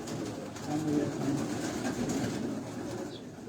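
Pigeons on a rooftop loft in Karachi coo softly under a steady wash of ambient noise, with the low murmuring calls fairly faint and continuous.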